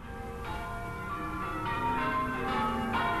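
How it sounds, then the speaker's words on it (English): A church clock rings out a chime of bells, soft and somewhat distant, with several overlapping strokes ringing into a steady, hazy wash of sound. "it would ring out a chime of bells, and I've got a recording of that chime of bells, which I'll pull over this video now"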